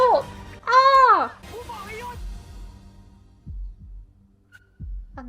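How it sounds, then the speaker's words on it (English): A heartbeat sound effect in a TV drama series thumps as a few deep, isolated low pulses, spaced apart after an exclamatory voice and some speech at the start. "And the heartbeat again."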